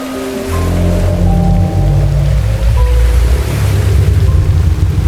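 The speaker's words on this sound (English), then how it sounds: "The water begins to churn." Churning ocean water swells in a broad, continuous roar, deep rumbling surges rising and falling beneath scattered higher tones, loud and close with no voices.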